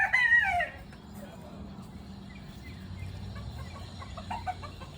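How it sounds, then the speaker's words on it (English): A buff Silkie chicken, with a brief loud bird call at the start and then softer, low clucking and rustling in the background. "this is Devros. He's a buff silky"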